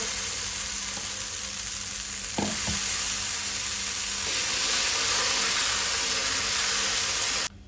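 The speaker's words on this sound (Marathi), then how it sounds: "तवो तापलो तसो ताजेर आमी पीठ घालुया।" Dosa batter lands on a hot, oiled griddle for a crispy masala dosa and sets off a loud, steady close-up sizzle that runs unbroken before stopping abruptly at the end, with no talk.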